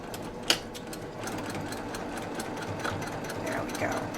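A home sewing machine stitches along the inside edge of a presser foot on a quilted placemat, running at a steady close whir throughout, with a sharp click near the start.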